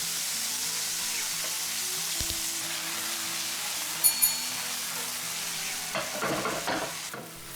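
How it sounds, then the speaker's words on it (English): Lean diced stewing beef fries in a hot pan in batches, a steady, dense sizzle with a couple of brief knocks and a burst of stirring near the end. "Once hot, start to fry the meat, but do this in 2 or 3 batches."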